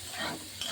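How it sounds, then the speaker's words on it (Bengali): Prawns sizzle briefly in a pan with salt and turmeric, a short, close, even frying hiss with no speech. "অল্প একটু আমি ভাজবো, বেশি না।"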